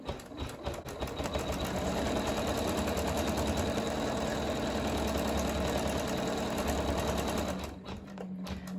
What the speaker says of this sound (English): place it over the placement stitch and let it tack down